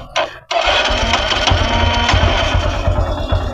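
A Honda Livo 110cc motorcycle engine, its fuel line opened, fires up after a brief starter whir and settles into a loud, steady close-up idle with a rapid low-pitched thrum.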